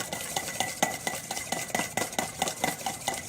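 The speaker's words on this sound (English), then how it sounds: "We just want to whisk them because we don't want to cook them up too much." Eggs are whisked in a pan, a quick rhythmic scraping and clinking of a utensil against the pan, moderately close and steady for a few seconds.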